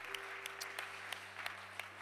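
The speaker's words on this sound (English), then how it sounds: "You can give the Lord a clap offering." Church congregation clapping during a Wednesday evening service, a dense patter of many hands heard from a moderate distance over a steady low hum, with a few sharper individual claps standing out.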